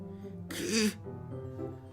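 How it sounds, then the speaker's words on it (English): Sharp inhale through clenched teeth in the Doki Doki Literature Club video game: a single short, hissing intake of breath over a soft musical drone, close and brief. "A sharp inhale, like someone is sucking the air through their teeth"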